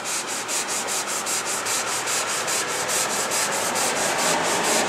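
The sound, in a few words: hand sanding a tank seam crack with extra fine sandpaper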